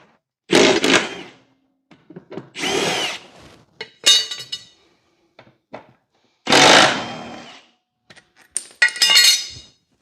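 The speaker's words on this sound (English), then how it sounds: "What we'll do next is take off the blades, and I just have my impact with a 5/8 impact socket." An impact wrench with a 5/8 socket removes the blades from a lawn mower deck, firing in four or five loud bursts of hammering rattle with clinks of metal between them.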